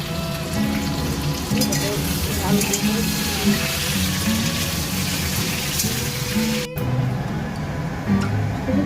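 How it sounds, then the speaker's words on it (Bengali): Potatoes frying in oil for a Sunday mutton dish make a steady, close sizzle running the whole time, with a tonal background hum underneath and a brief dropout near the end. "আলুটাকে আমি ভেজে নিচ্ছি।"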